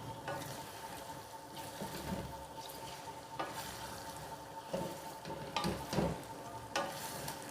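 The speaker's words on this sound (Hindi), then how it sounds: "अब मैं इसको चिकन के साथ ऑयल में भूनूँगी।" Chicken frying in oil with ground ginger and garlic paste for a Peshawari karahi, a faint steady sizzle with intermittent clattering stirs and scrapes against the pan.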